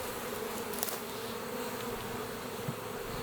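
Swarming honeybees fly around hive boxes during spring beekeeping, a dense, steady buzzing drone that fills the air close by with no voices.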